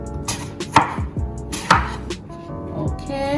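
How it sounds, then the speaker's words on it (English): A knife chopping ingredients on a board, heard as a few separate, fairly loud thuds at uneven intervals, close by and with no one talking. "Cut them in this size as I'm cook fast."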